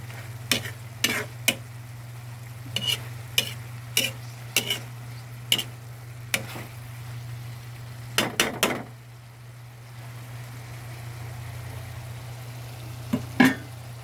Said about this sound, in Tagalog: sasangag mo siya ng tuyong tuyo